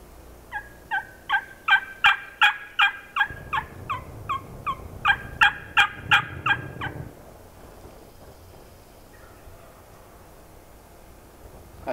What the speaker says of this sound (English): Let's see if the gobble's gone.